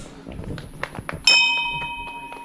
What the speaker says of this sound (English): Oh yeah, ring the bell. Ring the bell also.